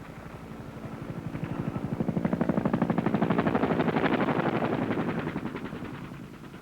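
Bell AH-1 Cobra attack helicopters in combat circle above a landing zone, the rapid rotor chop swelling loud and close, then easing slightly as they pass.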